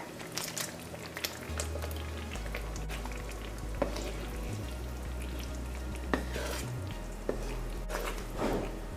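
Tamarind sour poured into simmering Guyanese karhee with pholourie in a pot, a steady frying sizzle and bubbling with a few soft stirring clinks, close and continuous without talk.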